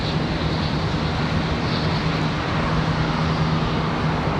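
A PSA Airlines regional jet departs Charlotte Douglas airport, giving a steady, broad engine roar at moderate distance that holds evenly throughout without talk.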